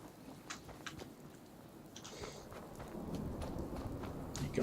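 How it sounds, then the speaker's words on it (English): Steady in-game rain patters down in Fallout 4 with a low rumble of thunder rolling beneath it, the downpour growing slightly heavier toward the end. "Here comes the rain."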